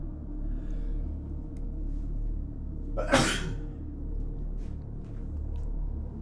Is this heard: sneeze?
yes